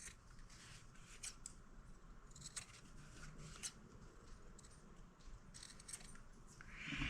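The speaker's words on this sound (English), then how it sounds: "I'm going to clip off the 4 corners" Scissors snip repeatedly through the corners of a sewn fabric potholder, a series of soft, close crisp cuts over a quiet background, with no talking.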